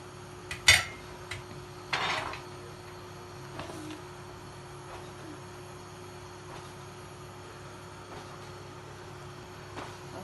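Fried rice with gizzard being stirred in a pan, a few sharp metallic scrapes and clanks of a utensil early on, then quieter faint scraping over a low steady background hum.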